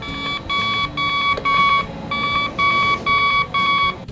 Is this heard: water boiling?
no